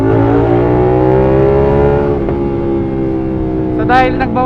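A CFMOTO 450SR motorcycle engine revving in third gear with an upgraded smaller front sprocket, a loud, steady harmonic drone held throughout, ending with a brief sharper rise near the end.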